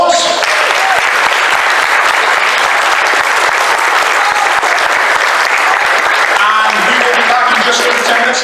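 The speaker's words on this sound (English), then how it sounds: "Give yourselves a round of applause." Loud, dense applause fills a convention hall at a Transformers fan event's opening ceremony, a continuous roar of clapping from a large crowd, with some voices and cheers breaking through near the end.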